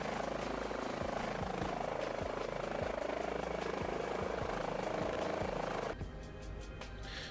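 Twin engines of an H145 air ambulance helicopter in Microsoft Flight Simulator drone steadily with a loud, dense turbine whine and rotor beat, then drop abruptly to a softer hum near the end.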